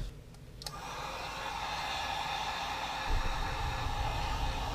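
A heat gun blows hot air onto shrink wrap on a Team Blacksheep Tango, starting with a couple of clicks and then holding a constant close, breathy whoosh.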